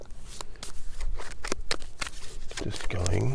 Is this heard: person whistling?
no